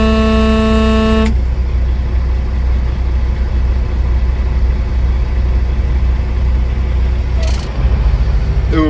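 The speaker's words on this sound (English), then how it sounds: "I gotta honk my horn, hold on." One long, loud, clear blast from a semi truck's horn opens, then a rumbling idling engine continues alone, with a brief second sound near the end.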